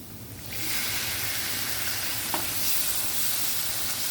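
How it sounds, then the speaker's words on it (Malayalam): Chopped tomatoes tipped into hot frying masala for a Kerala-style egg roast, setting off a loud, steady sizzle with stirring that holds close and even throughout, no voices. "ഈ ഒരു സമയത്ത് നമുക്ക് അരിഞ്ഞു വെച്ചിരിക്കുന്ന തക്കാളി ചേർത്ത് കൊടുക്കാം."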